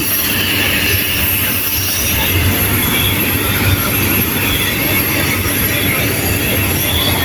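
A special Mother's Day steam train runs alongside train 284, giving a loud, close, continuous rolling rumble with wheel squeal and no voices.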